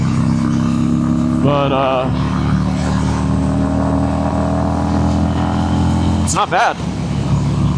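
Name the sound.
Harley-Davidson Sportster 883 motorcycle engine while riding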